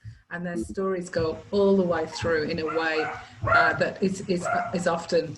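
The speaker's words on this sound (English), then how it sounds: "Sorry about my dog barking in the background." A dog barks repeatedly in the background of a webinar while someone talks steadily over it, the barks mixed under and between his words.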